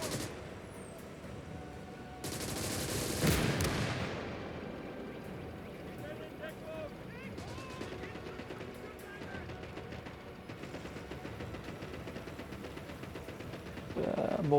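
Mortar rounds and battlefield blasts from the WWII strategy game Call to Arms: Gates of Hell, with a strong explosive burst early followed by a continuous rumble of distant gunfire and ambient combat, with a voice talking over it.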